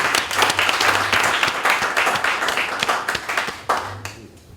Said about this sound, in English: please give Tony just a huge round of applause for this initiative